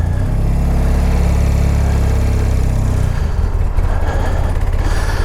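A 1986 BMW R80 motorcycle engine warming up at idle, a loud close low throbbing rumble that steadies and then drops lower partway through, with no talking.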